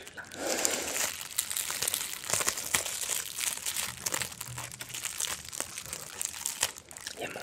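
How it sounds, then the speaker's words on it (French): Bubble wrap crinkles and crackles close up during an unboxing, a continuous stream of crisp rustling with sharp pops and snaps scattered throughout, with no speech over it. "Encore du papier bulle."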